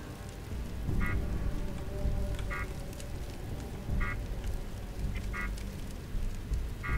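Beeping in the video game Fallout 4, a short bright electronic beep repeating at intervals of roughly one to one and a half seconds over a murky background of low rumble and noise.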